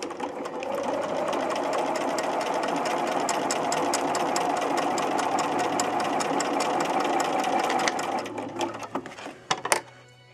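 A Bernina sewing machine stitches fabric in a steady, fast mechanical rattle for about eight seconds, then slows and stops with a few separate clicks and knocks.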